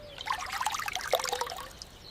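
Fresh drinking water is poured into a vessel, a soft, close trickle with bubbly splashing lasting about two seconds, without speech.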